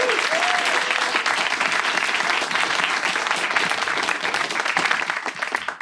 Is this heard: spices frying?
no